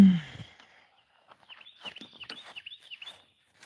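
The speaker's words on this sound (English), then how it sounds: "I'll let y'all listen to the birds" Small birds chirp outdoors on a country walk, a string of quick, thin high tweets at moderate distance following a brief rustle at the start, with no talking.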